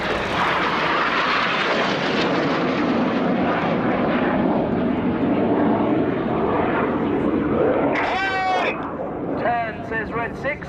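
Red Arrows BAE Hawk T1 jets passing at the RIAT 2017 Royal Air Force airshow, a loud, sustained engine roar that swells and fades over the whole span, with a commentator talking over it.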